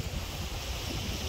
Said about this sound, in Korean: 파도가 너무 좋아요 지금.